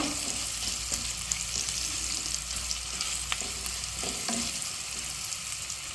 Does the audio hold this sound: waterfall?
no